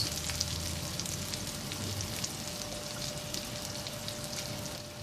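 A green pepper omelette fries in an oiled pan, giving a steady, even sizzle with faint crackles throughout and no voices.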